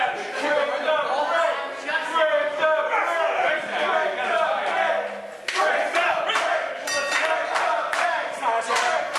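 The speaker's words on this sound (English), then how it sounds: "you can hear this sellout crowd here at the Chop Shop, snow or no snow, getting on the side of the Gears of War" A sellout crowd at a wrestling show at the Chop Shop cheers and chants loudly and continuously, a dense wall of shouting voices with scattered claps and yells throughout.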